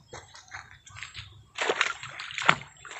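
An owl splashes into water, loud sloshing in a few bursts, the biggest near the end, over a low background rumble.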